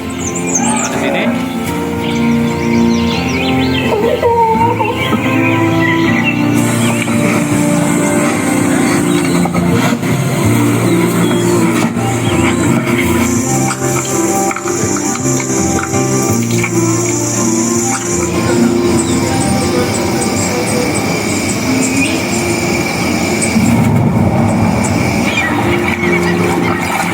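Demo audio from the centre speaker of a Sony HT-S40R soundbar, recorded close up: a busy, continuous music-and-effects mix with engine-like rumbles and shifting high tones, steady and loud throughout.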